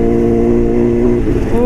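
A Honda CBR motorcycle engine, freshly serviced, runs loud and close at a steady rev with a rich harmonic tone, pitch wavering slightly near the end as the throttle shifts.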